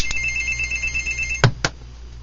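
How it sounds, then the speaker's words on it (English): A telephone rings in a home, a long bright electronic trill followed by two short sharp knocks, loud and close with no talk. "the moment I sit down to make a YouTube video, the phone starts ringing"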